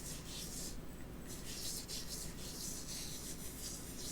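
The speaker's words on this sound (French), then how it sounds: "Et en mouvement circulaire, toujours vers le haut, je viens frotter." Exfoliating scrub rubbed in circular motions on a face, heard as soft, close, repeated swishing rubs in an uneven rhythm, faint and with no talk.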